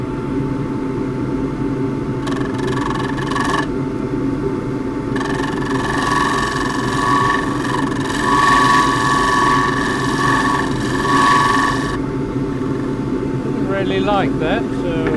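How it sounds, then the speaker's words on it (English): Shear scraping on a wood lathe against a spinning eucalypt burl, a steady close rasping hiss over the lathe's motor hum that swells for several seconds at a stretch. "I'm going to shear scrape it"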